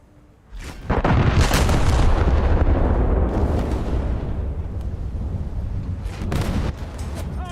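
Heavy naval gunfire from a warship battle video game: a sudden deep boom swells into a loud, sustained rumbling roar that slowly fades, followed by a few more sharp bursts near the end.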